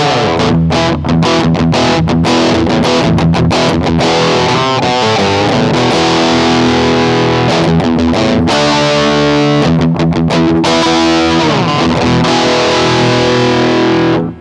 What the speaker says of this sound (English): Let's apply the scoops now, take it into the world of filtered metal.